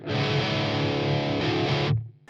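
A Randall RH300 G3 amp on its gain channel, pushed past halfway, rings out a sustained distorted chord for about two seconds before it is cut off abruptly, loud and steady.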